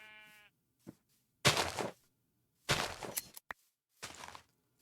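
Minecraft sheep bleat once at the start, followed by several loud, broad bursts of blocky game sound effects separated by silences.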